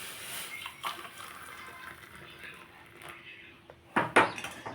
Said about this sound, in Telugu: ఇందులో కాఫీ పొడి షుగర్ వేసాను నేను పాలు కూడా కాఫీ కలుపుకుంటున్నాను